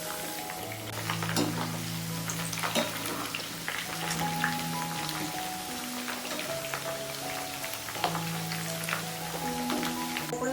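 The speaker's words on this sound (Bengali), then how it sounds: "তার জন্য কিন্তু আলুটাকে বেশ ভালো করে ভেজে নিতে হবে, যাতে ভাজতে ভাজতে সেদ্ধটা হয়ে যায়।" Potatoes fry in oil for a vegetarian aloo dum, a soft continuous sizzle with scattered crackles and a low steady hum beneath, fairly quiet and close, no one speaking.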